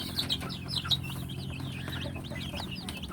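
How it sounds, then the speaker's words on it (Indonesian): Free-range village chickens, some of them sick, cluck and chatter steadily after being fed, with several birds nearby making repeated short, rising calls over a low background hum. "ini ayam yang terkena penyakit"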